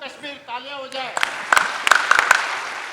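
Convention audience clapping in short scattered bursts that begin just after someone speaks into a microphone, brief and moderately loud.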